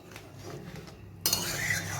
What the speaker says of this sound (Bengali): এটা একটু মিশিয়ে নেব।